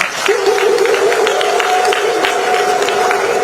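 An audience at an induction ceremony for newly qualified medical doctors gives a round of applause, with steady crowd clapping and murmur throughout and a sustained tone running underneath.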